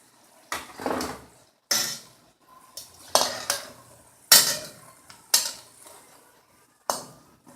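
Freshly fried pakoras are lifted out of a pan in a home kitchen. The sound is a series of sharp metallic clinks and scrapes of a utensil against the pan, about seven distinct knocks spaced irregularly, close and clear, with no talking.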